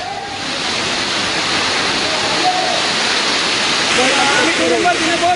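Gayatri Waterfalls in Adilabad roars with a steady, dense rush of falling water, loud and constant throughout, while faint voices can be heard in the spray.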